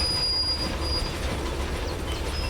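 A video game locomotive train rolls downhill on the Saluda Grade, with a continuous rumble of wheels on track and thin high squeals from the wheels. Nobody speaks.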